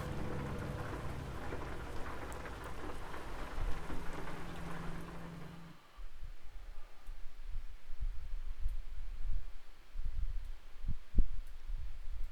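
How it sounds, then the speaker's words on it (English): Rain and thunder in American Truck Simulator: a dense patter of rain fills the first half, then it turns quieter and darker, with low rumbles and a couple of sharp thunder cracks near the end. No talking. "It's a rainy day in game"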